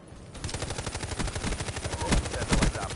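Rapid automatic gunfire from a Call of Duty Black Ops 3 multiplayer match rattles on steadily for several seconds, dense and loud with fast repeating shots.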